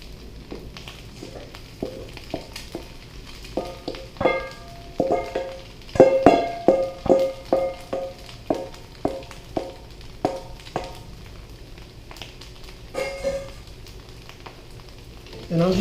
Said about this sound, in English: I'm just going to gently fold everything together, or as gently as I possibly can, with this huge amount of stuff and a small wooden spatula